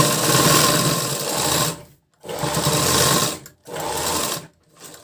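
A sewing machine stitches a blouse side seam up to the underarm in three loud close runs of rapid whirring, separated by brief pauses, with a short start at the end.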